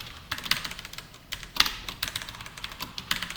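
Fast typing on a computer keyboard while entering text for a logo in an HTML and CSS coding lesson, a quick irregular run of close, crisp key clicks with a few louder taps.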